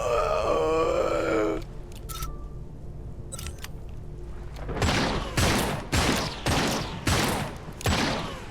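Automatic gunfire in a video game: after a brief tonal, voice-like sound and a quieter stretch, a steady run of loud, evenly spaced shots rattles out in close succession.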